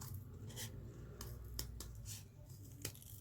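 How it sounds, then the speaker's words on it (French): Scissors cutting through cardboard to shape a heart for a pop-up card, making a few quiet, crisp snips at irregular intervals over a low background hum, with no one speaking. "Donc, on va découper notre forme"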